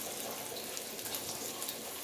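Raw banana slices toast in oil on a tawa over a low flame, giving a steady, soft, hissing sizzle that stays even throughout.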